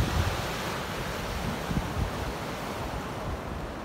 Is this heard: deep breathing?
no